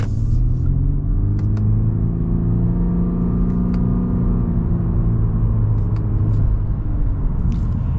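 A 2021 Honda Insight Touring hybrid car pulls away and accelerates, heard from inside as a steady low rumbling engine and road drone with a gently rising whir, loud and continuous throughout with no talking.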